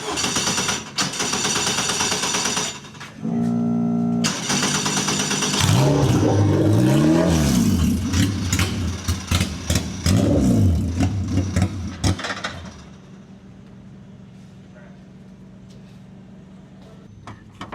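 A Formula 4 race car on a test day pulls away from a standstill in first gear, its engine rising through loud, rapid revving sweeps with sharp upshifts, close by, then fading out as it leaves.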